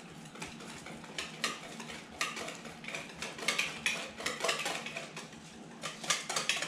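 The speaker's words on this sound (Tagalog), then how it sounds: "Haluin lang po." A utensil stirs and scrapes through liquid banana bread ingredients in a bowl, repeated soft clinks and swishes in an uneven rhythm, close and fairly quiet, with no speech.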